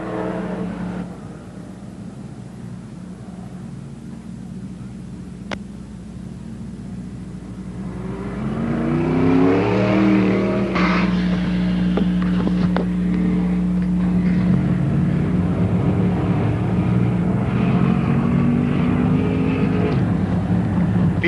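Modified race cars at Merrittville Speedway in 1988, with a low engine drone from a distance that builds into loud roaring and revving as the pack passes close, continuing as a steady heavy rumble.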